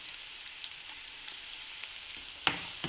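Ginger and garlic, added with cinnamon, cloves and onion, fry for chicken curry in a pan with a steady soft sizzle and one brief clack of a utensil near the end.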